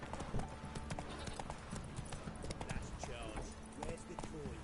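Roach, the horse in The Witcher 3, gallops in a quick, steady clip-clop of hooves throughout, with speech over the top.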